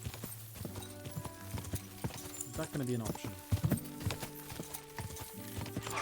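Hooves clip-clop in a steady rhythm as a horse moves in Kingdom Come: Deliverance II, with a brief whinny midway and people talking over the game sounds.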